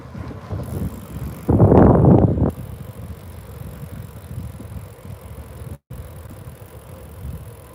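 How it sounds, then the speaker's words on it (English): Trek FX2 bicycle being ridden, with a loud burst of mechanical drivetrain noise from a gear shift into first gear, then steady rolling and rattling noise with light wind buffeting. "And then we'll click on the left side and bring it down in the first gear, and it lightens up that resistance a little bit."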